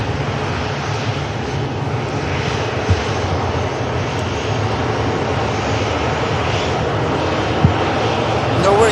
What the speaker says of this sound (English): Ryanair, maybe just waiting a bit of taxi instruction